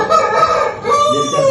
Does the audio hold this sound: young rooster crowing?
yes